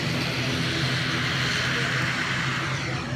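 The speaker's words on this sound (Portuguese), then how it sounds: "a gente tá aqui no aeroporto vendo os aviões e tal" An airplane at an airport, heard as a steady broadband engine roar at moderate distance, continuous and unbroken with no talking over it.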